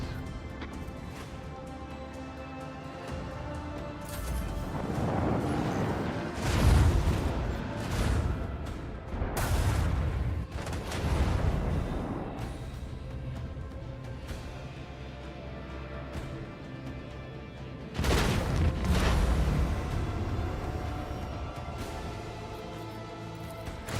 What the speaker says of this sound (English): I want to hear our macro cannons roar.